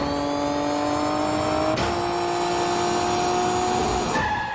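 Kart engines in the Nintendo 64 game Diddy Kong Racing whine at a high, steady pitch that climbs and briefly shifts mid-race, with tire skids and a sudden change in tone near the end.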